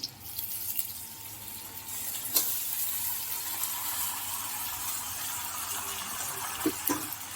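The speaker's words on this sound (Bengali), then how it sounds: "এর সঙ্গে এবার দিয়ে দেবো ধুয়ে রাখা আমাদের চিকেনটা" Washed chicken is added to frying spices in a pan, giving a loud, steady, water-like rushing sizzle with a few sharper splutters and no talk.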